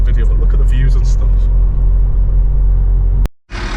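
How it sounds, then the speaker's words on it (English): The five-cylinder engine of an Audi RS3 rally car drones with a loud, deep, close rumble that holds steady and then cuts abruptly to silence, followed by a sudden burst of bright noise, with speech present. "the 5-cylinder sounds really good, as you'll hear from the video"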